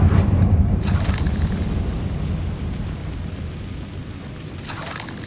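A Confringo spell explosion in Hogwarts Legacy booms at the start, then its deep rumble slowly fades away, with a second fiery burst swelling near the end.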